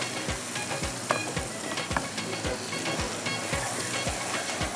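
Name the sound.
ground tomatoes and onion frying in a pan for fish kabab masala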